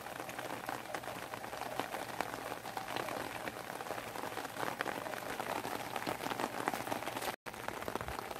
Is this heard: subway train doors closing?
no